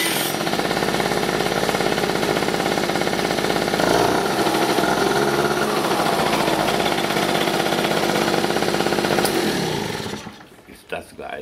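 An Italjet scooter engine running at a high buzzing idle, loud and close with a rough rattling two-stroke character, holding steady for about ten seconds before cutting off, followed by brief quiet.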